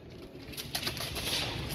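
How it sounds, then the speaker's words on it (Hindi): Laal Pari pigeons, a colourful breed, give a brief soft cooing and rustle close by, quiet and short with no voices. "ये सब कलर कबूतर ये ओरिजिनल कबूतर है लाल परी"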